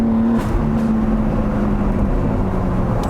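A BMW G80 M3 running rear-wheel drive with boost by gear pulls hard under acceleration on track, a steady loud engine drone with a rising tonal note, no talking over it.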